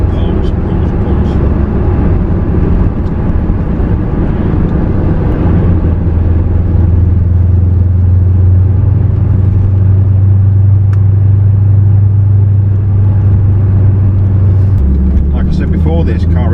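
A 2002 Chevrolet Camaro SS V8 drives along with a steady low engine drone that deepens and holds under acceleration, close and loud, with speech over the top.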